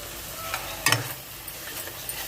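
Onion masala sizzles and fries in a pan for an egg masala curry, a steady close crackle with a brief louder stirring scrape near the middle; no one speaks.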